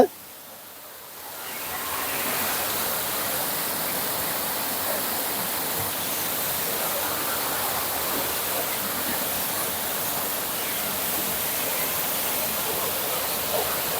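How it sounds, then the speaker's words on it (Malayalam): Meenmutti waterfall at Banasura in Wayanad, a loud, dense, continuous roar of falling water that swells up after a brief quiet opening and holds steady, with no talk. "വെള്ളച്ചാട്ടം കണ്ടോ?"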